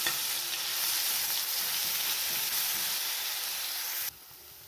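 Ground masala spice paste sizzling and frying in hot oil with cumin and mustard seeds, a steady loud hiss that runs unbroken, dips briefly near the end, then resumes.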